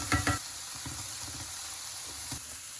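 Curry leaves, urad dal and grated coconut crackle in hot oil while being stirred, with a short burst of loud sizzling and stirring at the start, then a steady soft hiss with occasional scrapes.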